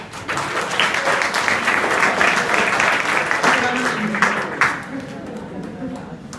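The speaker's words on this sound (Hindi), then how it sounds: "ये जितने लोगों के लिए तो ताली बजा रहे हैं।" Students applaud at an adolescent education program in a school hall at an inter college, a dense, steady clapping that runs for several seconds and then thins out, with voices audible under it.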